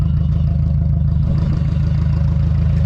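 A camper van engine running steadily right after it fired up, a loud close rumbling idle with a fast even chugging pulse and a faint clatter, no voices.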